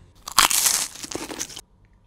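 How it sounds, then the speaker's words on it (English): Someone bites into a crunchy, seed-filled exotic fruit: a close, sharp crunch followed by a second or so of chewing crackle, then near silence. "It's crunchy."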